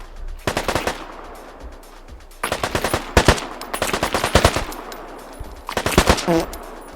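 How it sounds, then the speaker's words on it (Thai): Bandits open fire in a shooting video game, producing three loud, close bursts of rapid automatic gunfire separated by short lulls, with no speech. "เราเจอดงโจรวะ มายิงมาแล้ว"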